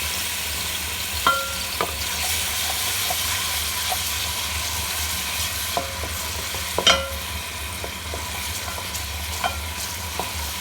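Garlic ginger paste frying in a hot pot, a steady close sizzle and hiss with occasional scraping stirs and light clinks throughout, no talking.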